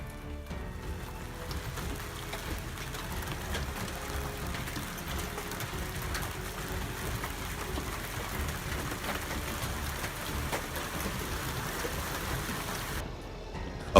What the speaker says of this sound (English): a huge hailstorm suddenly hit, cracking the car's windshield in just a few minutes